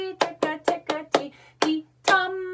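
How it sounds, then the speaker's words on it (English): Hands clap out a rhythm for a fourth-grade rhythm practice lesson: seven sharp, close claps in an uneven pattern, five in quick succession and then two more spaced apart, with a low steady hum underneath. "I will clap with you."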